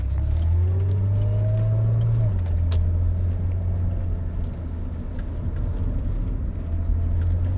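A Rover 800 car accelerating on the road, heard from inside the cabin with a loud, steady engine drone whose pitch climbs then drops as it changes gear, then settles into a constant hum over road noise.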